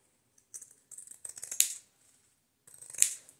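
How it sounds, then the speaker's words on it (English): Scissors cut rectangles out of paper in short bursts of crisp snipping, close and fairly quiet, with a pause between two rounds of cutting. "I'm just basically cutting out rectangles here"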